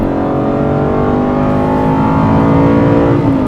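A Porsche 992 GT3 Touring engine revs steadily and loudly while driving, a continuous rising mechanical roar with no talk over it.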